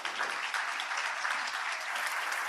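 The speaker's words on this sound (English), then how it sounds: "I think the panelists deserved a big applause" Audience at a panel session on the future of EOSC applauding the panelists, steady continuous clapping, moderately distant and even throughout.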